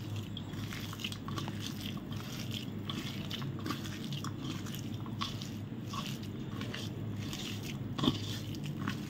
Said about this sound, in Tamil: இப்போ இது எல்லாத்தையும் நம்ம கையை வச்சு பிசைஞ்சுக்கலாம்.